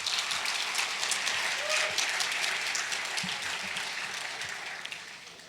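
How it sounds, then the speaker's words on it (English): Audience applause at a racial justice breakfast event in Long Beach, a dense, sustained round of clapping from a room of attendees that slowly tapers toward the end. "Please give them another round of applause."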